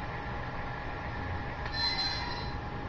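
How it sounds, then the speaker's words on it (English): Coupling and brake noises from a DCC sound decoder in an upgraded Athearn Blue Box model locomotive, a low rumbling hiss with a faint high metallic squeal rising briefly partway through. "coupling noises, brake noises,"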